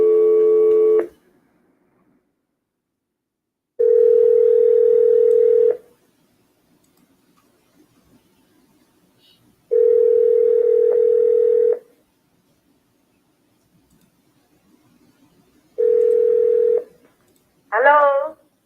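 Telephone on an outgoing sales cold call: three long ring-back tones with pauses between, each a steady buzz, then a short warbling chirp at the end, no talking over it.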